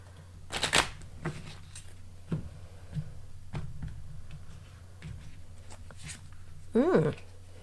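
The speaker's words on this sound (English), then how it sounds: "So let's pick a few Doreen Virtue cards" Doreen Virtue oracle cards being shuffled close by, with a series of papery riffles and slaps, several sharp card flicks and a brief swishing flurry near the end, against a faint low hum.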